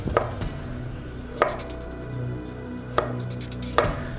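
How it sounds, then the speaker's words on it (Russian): A knife slices carrots on a cutting board in four sharp, evenly spaced chops, each a crisp knock standing out clearly against a quiet kitchen background. "Морковь нарезаем ломтиками"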